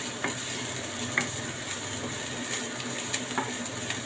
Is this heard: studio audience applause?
no